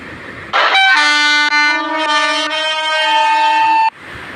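A vehicle horn in a mobile driving game sounds one long, loud, steady tonal blast lasting about three seconds, with a brief break partway through, alone and up close.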